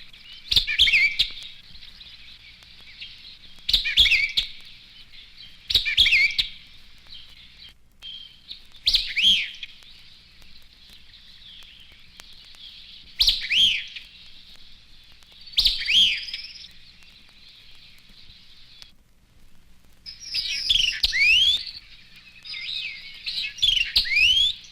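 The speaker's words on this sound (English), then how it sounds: "The white-eyed vireo is partial to woodlands with brushy thickets. His notes are rapid, emphatic, and staccato." Rapid, emphatic staccato song of a white-eyed vireo from brushy woodland thickets, repeated in clear, fairly close phrases with short pauses between bursts and no other sounds.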